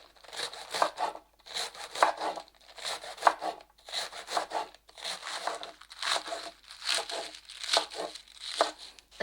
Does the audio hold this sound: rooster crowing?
no